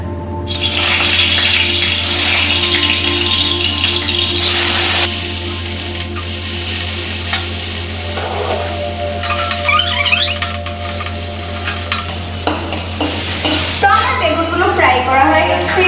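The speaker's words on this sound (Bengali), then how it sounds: "এবার আমি বেগুনগুলো ছেড়ে দিচ্ছি।" Eggplant pieces fry in hot oil for a fish curry, a steady, loud sizzle with splashy bursts as they drop into the pan, and a voice talks over part of it.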